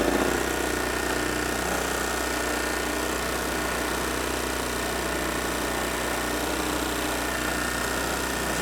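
A Troy-Bilt portable generator engine runs at a steady, loud drone with continuous mechanical vibration throughout and no change in pace. No one speaks.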